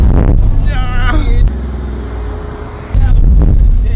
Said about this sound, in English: We're in the passenger seat and we're going on a drift lesson.